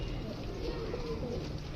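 Pigeons in a kept flock of fancy goley kabutar coo in a low, continuous murmur close by, with faint rustling and no voices over it.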